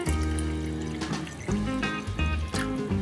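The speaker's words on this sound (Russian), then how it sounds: "Наливаем сюда воды. Ну и, допустим, пытаемся все это дело перелить сюда." Water poured from a container through a silicone funnel into another vessel, a steady running trickle lasting a few seconds, close by and fairly loud.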